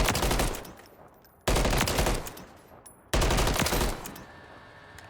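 Bursts of automatic gunfire aimed at mannequins in Modern Warfare 3, three loud close volleys of rapid shots, each trailing into a brief echoing tail.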